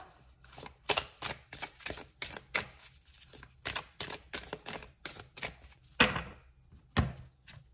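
A card drawn from an oracle deck, with a run of quick papery riffles, flicks and soft taps of cards being shuffled and handled close up, ending in a couple of sharper snaps as a card is pulled out.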